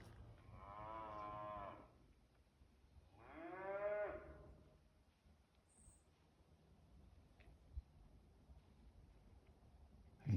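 Two long, deep moos from a herd of cattle carry in from a moderate distance, one after the other, followed by quiet outdoor ambience with no one talking.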